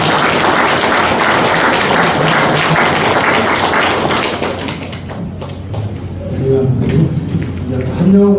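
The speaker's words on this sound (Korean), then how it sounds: "박수 한번 더 쳐드리시죠." A church congregation applauding during a Korean pastor's installation and elder pastor retirement ceremony, loud dense clapping that fades after about five seconds into quieter room sound and a voice.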